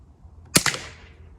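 A single .22LR round is fired to drive a nail, a sharp, loud close crack that decays quickly into a short fading tail, with quiet before it.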